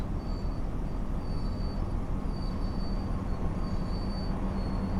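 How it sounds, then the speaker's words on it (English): Continuous low rumble of trains moving in the Train Sim World 6 Great Western Express route near Paddington Station, with faint high whines drifting in and out, steady and fairly quiet throughout, no voices. "a lot of trains moving, making noises"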